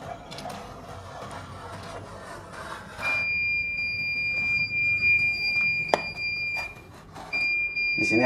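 A Bosch D-tect 120 wall detector, scanning a concrete column for steel, gives two sustained electronic beeps with a short gap between them. The tones are clear and close, over low room noise and handling clicks.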